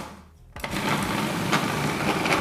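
After a brief near-silent moment, a kitchen blender kicks on abruptly and runs as a loud, dense whirring roar that lasts to the end.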